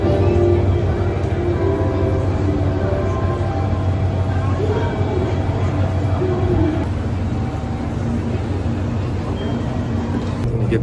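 Continuous low rumble and hum of a JR commuter train in motion in Fukuoka, Japan, heard from inside, with faint murmuring voices in the carriage.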